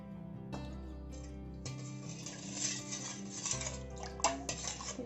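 A spoon clinks and scrapes against a pot while mint and chilli paste with salt is stirred, giving light irregular taps over a steady tonal background.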